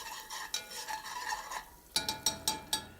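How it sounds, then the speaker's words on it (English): A spoon stirs garlic in a pan with a soft sizzle under it, first as a few scraping passes, then as four or five sharper, evenly spaced clinking strokes near the pan. "we're going to give that a stir, because what we want to do is just change the color of the garlic just a little bit"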